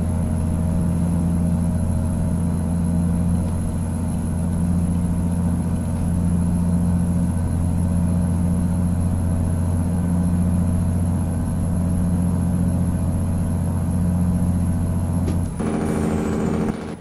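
Loud, steady drone of a truck engine idling and running in American Truck Simulator, unbroken for most of the stretch before a brief hiss-like shift near the end, with no voices.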